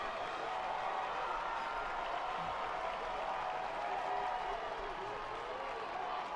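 A football stadium crowd roars in a sustained wash of cheering and applause on third down, heard from a distance with a faint voice in the background.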